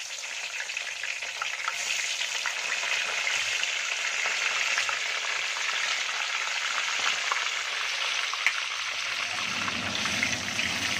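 Tofu deep-frying in hot oil for tahu gejrot, a steady dense sizzle and crackle running loud and unbroken throughout, with no voices.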